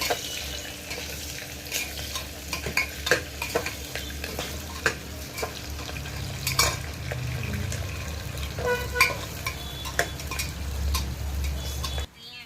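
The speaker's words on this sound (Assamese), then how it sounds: "এইটো পিঁয়াজখিনি এতিয়া ৰঙা হোৱালৈকে ভাজিম।" A large onion frying in a pan, steady sizzle with repeated sharp scrapes and stirring clatters of a spatula against the pan, close and loud, no talk.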